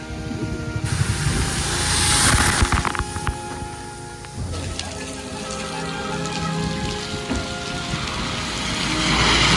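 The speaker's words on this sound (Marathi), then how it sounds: "पावसाचा जोर खूप वाढलाय" Heavy monsoon rain pours down continuously in the Sahyadri hills amid dense fog, a dense hiss of drops drumming on surfaces, loud and close throughout.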